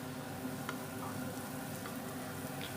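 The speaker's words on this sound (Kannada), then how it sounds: "ತುರಿದಿಟ್ಕೊಂಡಿರುವಂಥ ಶುಂಠಿ ಸ್ವಲ್ಪ ಹಾಕ್ತಾಯಿದ್ದೀನಿ" Grated ginger goes into onions frying in a pan for egg masala, with a steady close sizzle and faint stirring ticks throughout.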